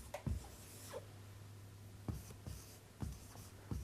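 Chalk or marker writing English words on a board, several short scratchy strokes spaced apart over a quiet room hum.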